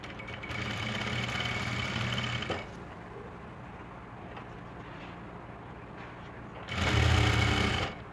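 Sewing machine running in bursts while stitching the edge of a salwar mori, a steady close mechanical whir at the start and again near the end, with quieter handling and room noise between.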